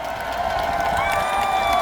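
A crowd at a political rally applauds and cheers, a steady dense wash of clapping that holds evenly throughout, with tonal sound mixed beneath it.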